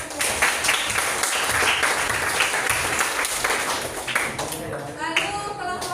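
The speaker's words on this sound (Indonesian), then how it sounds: "kita kasih tepuk tangan untuk kelompok dua." Students in a classroom give a round of applause for a presenting group, steady dense clapping that fades near the end as a voice begins talking over it.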